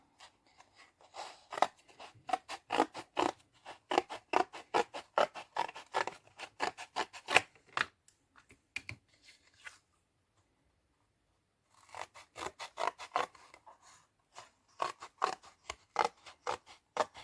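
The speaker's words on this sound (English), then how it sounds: "So I'm going to cut the next strip now." Scissors snip through a paper strip in a steady run of crisp close cuts, pausing for a few seconds of silence before the snipping resumes.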